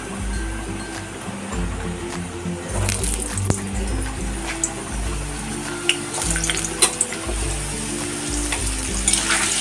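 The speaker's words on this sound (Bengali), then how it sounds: "সামান্য একটু নুন দিয়ে আলুটা ভেজে নেব।" Potatoes with a little salt sizzle in hot oil with black cumin up close, a steady crackling hiss with occasional clinks and scrapes of stirring.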